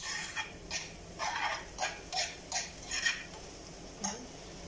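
An egg cooks in a pan and is stirred. Soft, regular scraping strokes sound about every half second at low volume, close by, with no one speaking.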